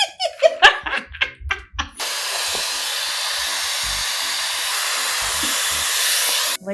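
A hair dryer fitted with a diffuser runs on its cool setting. First comes a burst of laughter, then the dryer switches on with a loud, steady whooshing blow for several seconds before cutting off.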